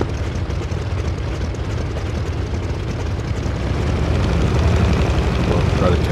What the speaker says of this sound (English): All right, taxiing out.